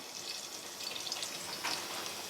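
Green chillies and garlic frying in hot oil give a steady, close sizzle with a dense crackling hiss running unbroken from start to finish, with no talking over it.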